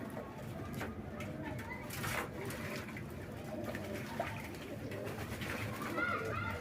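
Pigeons coo around a loft near a water tub, low murmuring calls mixed with splashing and handling noises, while someone talks over them.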